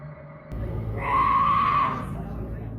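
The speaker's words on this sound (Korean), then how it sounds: "그러나 그 사람은 여전히 마귀 같은 비명을 지릅니다." A man's strained, drawn-out scream rises from a low rumbling background, swelling loud and harsh for about a second before easing off into noisy ambience.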